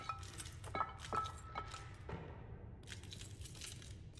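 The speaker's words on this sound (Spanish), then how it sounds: "¿No me duele pisar vidrio?" Broken glass stepped on in Little Nightmares 2, a series of faint, sharp crunching clinks and small cracks spaced about half a second apart, followed by a softer scattering tinkle, close and quiet.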